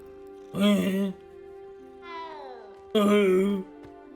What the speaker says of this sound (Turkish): Nasıl bir miyavlama şey.